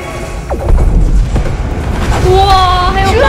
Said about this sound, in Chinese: 哎呦，我天哪，还有这么大爆炸！